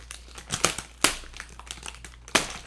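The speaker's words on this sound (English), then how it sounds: "let's jump in and rip this open" Plastic wrapper of an Oreo cookie package ripped open loudly, several sharp crinkling tears and rustles in bursts, close and alone.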